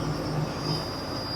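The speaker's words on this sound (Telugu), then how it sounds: "సో ఆ సౌండ్ అది ఎయిర్ లీక్ అయిపోతా ఉన్నది." Compressed air escaping from a leaking air pipe on a truck, a thin steady high whistle over a low rumbling drone, continuous for the whole moment.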